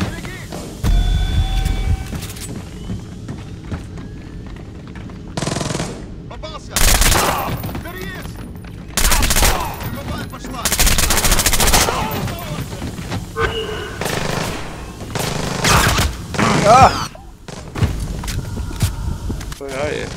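Gunfire in the video game Splinter Cell Blacklist: sharp bursts of shots and a rapid volley crack loudly between footsteps and game noise, with players talking throughout.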